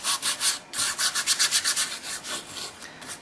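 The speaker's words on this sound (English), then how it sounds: "I'm just going to take my emery board and kind of sand the" An emery board rubs back and forth across the surface of a small wooden dollhouse-size table, making loud, rhythmic, close-up rasping strokes in quick succession.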